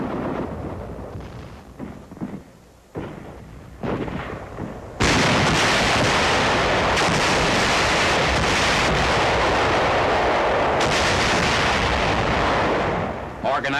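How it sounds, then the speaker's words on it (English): Satchel charges blast holdouts out of a cave on Okinawa near the end of the battle: a sudden heavy roaring explosion swells and rumbles on for many seconds after a quieter, rushing stretch, dense and close. "Another section being cleaned out by satchel charges."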